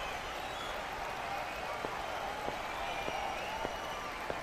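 An arena crowd in the Fist of the North Star Yakuza game, gladiator games setting, keeps up a dense, continuous cheer and clamour with faint claps, an even wash of noise throughout.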